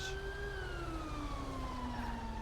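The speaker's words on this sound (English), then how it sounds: "a decent tow truck. It has its own sirens." Tow truck siren in GTA V with the LSPDFR police mod, a steady wailing tone sweeping slowly downward, loud and continuous throughout with a faint road rumble beneath.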